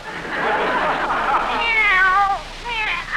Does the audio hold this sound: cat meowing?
yes